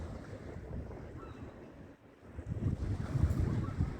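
Gusty sea wind buffets the microphone on a quiet pier by the water, low rumbling bursts dipping briefly then surging stronger, with faint wave wash underneath.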